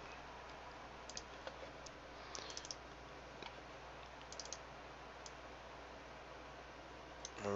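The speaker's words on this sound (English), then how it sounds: "I just double click and drag the contents of it to the desktop" Faint computer mouse clicks, including double-clicks, while files are dragged to a desktop, heard as sparse small ticks over a low room hum with no speech.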